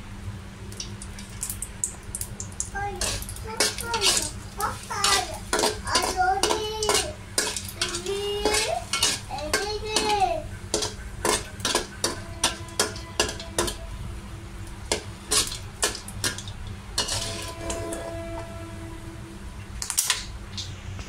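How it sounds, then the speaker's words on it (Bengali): Chillies frying in a little oil in a wok for egg bhorta, with a dense run of close, sharp metallic clatters and scrapes from stirring in a steady uneven rhythm, and a faint voice in places. "আমি এখানে এই অল্প তেলের মধ্যে মরিচটা ভেজে নেব"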